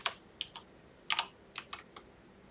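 Quiet, irregular clicks of typing on a computer keyboard, a few quick keystrokes in small bursts separated by short pauses, close by with no talking.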